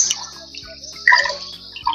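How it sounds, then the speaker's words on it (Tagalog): Running water splashing over boiled pork fat being washed, a steady close trickle and spatter with brief louder gushes. "Pero hugasan pa rin po natin para sure"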